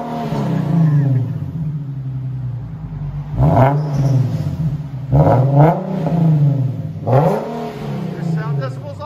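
A Nissan 370Z with a 3.7L V6 and deleted muffler revs repeatedly, deep raspy exhaust rising and falling in three sharp blips over a rumbling idle, close and loud, with people talking during it.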